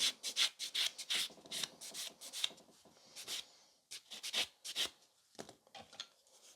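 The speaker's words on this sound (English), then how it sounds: "With the buffer, I try to keep it the same filing motion and blend around the cuticle area." A nail buffer rasps over gel nails around the cuticle in quick, short strokes, each a bright scratchy rub, with brief pauses between bursts.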